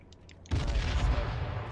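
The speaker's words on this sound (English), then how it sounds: "And I just had an explosion." An explosion in the battle royale game H1Z1 King of the Kill: a sudden loud blast after a quiet moment, then a heavy, rumbling roar that sustains to the end.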